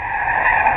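A car skids loudly during a high-speed chase, its tires giving a sustained, close squeal that holds steady for the whole brief moment, as caught on a home doorbell camera.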